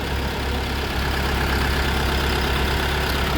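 A Dongfeng 404 tractor's heavy diesel engine idles steadily and loudly, a continuous low rumble with no pauses.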